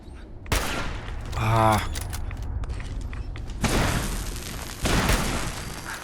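Tesla cannon fired in the video game Fallout 4: sharp, loud broadband blasts that crackle and trail off, with one burst early and two more later, under game noise and a man's short exclamation.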